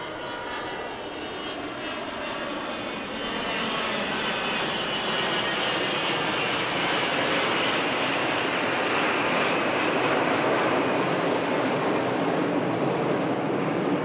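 Pilatus PC-21 turboprop aircraft flying at an air show, a loud steady engine roar that swells slightly and holds throughout with no talk.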